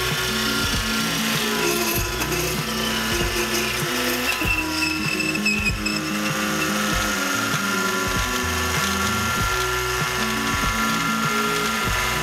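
A metal lathe parts off a larger-diameter workpiece, producing a steady grinding, chattering cut with a faint high whine, continuous and close throughout, with no speech.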